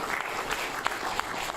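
Applause at a city council meeting, a short steady patter of clapping from a small crowd in a room, fairly loud and continuous with a few sharper claps.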